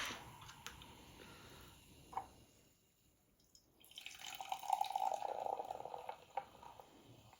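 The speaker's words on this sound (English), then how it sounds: "I'm going to pour a little into each." Soda pouring into cups, a soft, quiet fizzing and trickling that swells in the second half with scattered small drips.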